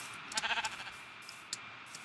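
A Minecraft sheep lets out a short wavering bleat, quiet and a little distant, followed by faint ticks and small game noises against a steady low hum.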